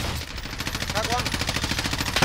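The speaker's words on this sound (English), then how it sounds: "Everybody shooting." Gunfire in the video game Call of Duty: Warzone, with rapid automatic bursts rattling continuously in a dense firefight, including an M4A1 rifle, while players talk over it.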